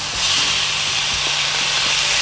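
Cabbage and chopped tofu fry in a pan for fried rice, giving a steady, loud, hissing sizzle that holds evenly from start to finish, with no voices.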